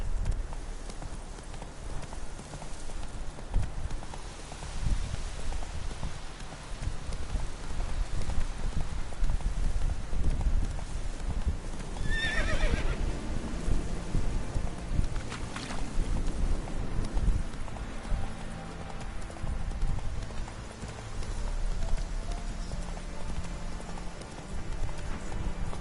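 Hooves of the horse Roach clip-clop steadily through The Witcher 3 over a dense layer of wind and game ambience, with a short neigh-like cry rising briefly in the middle.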